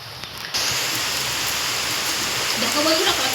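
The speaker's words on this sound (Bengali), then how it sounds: "বৃষ্টি হচ্ছে আর জোর পড়ছে বৃষ্টিটা।" Heavy rain pours down steadily as a broad, close hiss that swells sharply after the first half second and stays loud, with faint patter and splashes on top.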